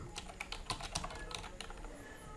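Typing on a computer keyboard while entering an email address for an account sign-up: a quick, irregular run of crisp key clicks, close and clear, with no voices.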